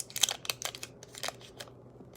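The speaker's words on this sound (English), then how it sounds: "Can you unwrap the butter?" Butter being unwrapped from its wrapper gives a run of quick, close crinkles and papery rustles, with irregular sharp bursts that thin out toward the end.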